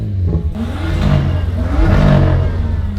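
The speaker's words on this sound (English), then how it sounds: "I think it's a Ferrari." A Ferrari's engine revs at a car meet, swelling and sweeping upward in pitch as the throttle opens, loud and close, with a steady rumbling roar under it.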